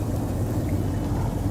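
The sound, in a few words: heavy rain pouring down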